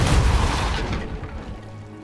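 A Depulso spell cast in the video game Hogwarts Legacy, one loud close booming burst with a deep rumble that fades over about two seconds, with no voices.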